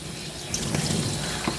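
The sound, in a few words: water rinsing a Coton de Tulear dog during grooming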